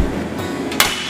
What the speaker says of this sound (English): We can actually hit this thing with a hammer and it won't break.